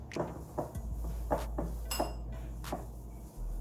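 Light clinks and taps of a utensil against a bowl while Lebanese beef kafta mixture with parsley is stirred by hand, coming as a steady run of close, brief knocks over a low hum.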